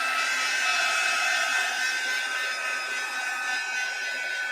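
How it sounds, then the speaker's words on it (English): A heat gun blowing hot air to dry a newly made journal, a continuous close whirring roar that stays steady throughout with no talking. "Now we're going to get that heat gun out, y'all, and do some sort of drying."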